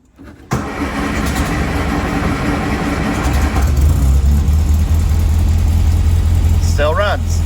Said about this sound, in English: let's start the engine and make sure we didn't do anything wrong